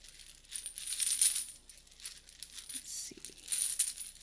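Small tarot charms from a Charm Cast Tarot set are shaken and shuffled together, producing soft bursts of bright metallic clinking and rattling in several waves, fairly quiet and close.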